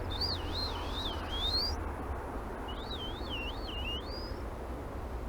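Wild birds call outdoors in two clear, warbling whistled phrases, each rising and falling several times before a brief pause, heard fairly near over a low background hum.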